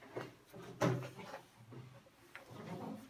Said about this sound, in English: We can just bring that door back to 90 degrees.